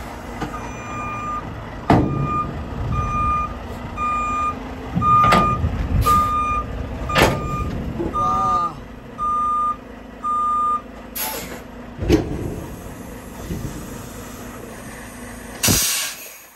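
A semi truck in America reverses to hitch a brand-new trailer, giving a loud, regular run of reversing beeps. Several sharp air-brake hisses and the rumble of the idling engine break in between, all close by.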